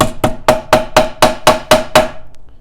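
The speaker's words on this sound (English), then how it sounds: "Don't be afraid to actually hammer these pins in too, to actually put the seals right in." A hammer taps spark plug tube seals into a 2ZZ engine valve cover for a Corolla, Celica or Matrix, nine sharp, ringing metallic strikes in a steady rhythm, close and loud, with no talking.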